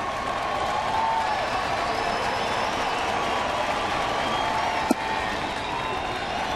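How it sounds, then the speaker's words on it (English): A baseball stadium crowd roars steadily during a late-inning comeback for the home Cardinals against Cincinnati, a broad sustained wash of cheering and applause with one sharp bang near the end, a commentator's voice faint beneath. "The crowd's into it."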